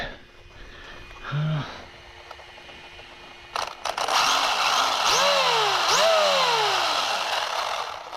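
A Rlaarlo AK787 twin motor RC car revs and spins its tires, electric motors whining up and down in repeated swooping pitch sweeps over a loud, gritty roar, very close.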